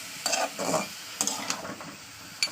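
Ginger-garlic paste stirred into hot oil crackles and sizzles up close, with a few sharp bursts of spatula scrapes against the pan amid quieter frying and no talk.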